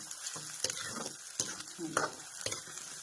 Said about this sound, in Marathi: आता मी कांदा टाकून घेतलेला